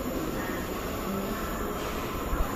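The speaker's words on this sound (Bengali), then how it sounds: "তো ট্রেনও চলে এসেছে অলরেডি এই যে দেখতে পাচ্ছেন ট্রেন চলে এসেছে" A metro rail train pulls into the platform with a loud, steady rumble and a wheel hum that fills the whole moment, and no voices can be made out.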